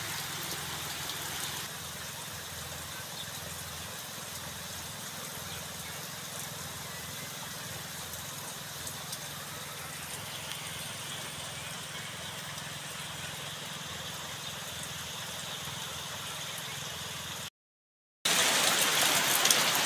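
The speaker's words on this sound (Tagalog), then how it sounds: "Yan, lumakas na yung ulan, no?" Heavy typhoon rain on Burias Island roars steadily for a long stretch, cuts out for a moment, then returns noticeably louder.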